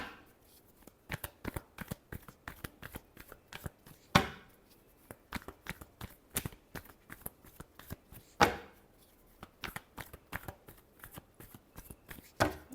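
Tarot cards shuffled by hand in a quiet room: a steady run of close, crisp riffling flutters, with two sharper, louder bursts partway through. No one speaks.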